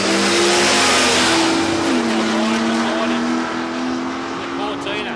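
A supercharged 1956 Chevrolet drag car at a drag strip, its engine roaring loud and close with a sustained, harsh growl that shifts pitch as it accelerates down the track, gradually fading slightly.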